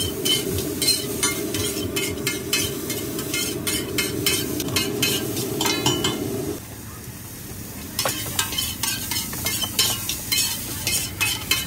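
Filling for a vegetable paneer roll fries in Amul butter at a street stall in Karnal, making a constant loud sizzle with rapid scraping and clinking of a spatula on the pan, the hiss dropping partway before the scraping resumes.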